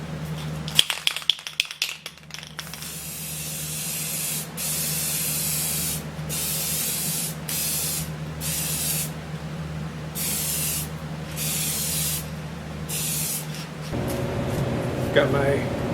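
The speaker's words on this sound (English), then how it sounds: "To spray this, I'm just gonna use a crystal satin." A spray can of satin finish rattles as it's shaken, then sprays onto wood in a series of long hissing bursts separated by short pauses, close by, over a low hum.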